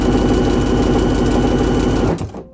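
Close and loud, a sewing machine hums and whirs steadily as it runs a seam on a Mood hickory ensemble, then winds down and stops abruptly near the end.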